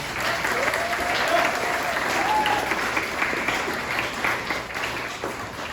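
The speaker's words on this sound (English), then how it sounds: "a round of applause for all of our wonderful nominees" An awards event audience applauds the nominees with a full, sustained round of clapping lasting several seconds, fairly loud and even, with a faint voice briefly audible beneath the crowd.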